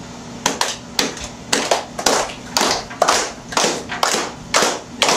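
Soft, cupped-hand claps with air trapped between the palms, about a dozen in a steady rhythm, each a muffled hollow pop, close and fairly loud with no talking.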